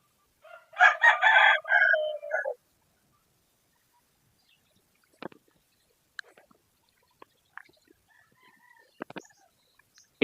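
A rooster crows loudly once near the start, followed by quiet scattered clucks and faint bird chirps from chickens nearby, with long gaps of near silence.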